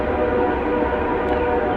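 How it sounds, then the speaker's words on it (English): A steady, loud rumble of a train passing nearby, a dense low roar with no voices. "That is a train."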